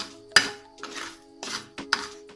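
A metal spoon stirs caramel in a pot, giving several sharp clinks and scrapes against the metal at an irregular pace, close and distinct without talk.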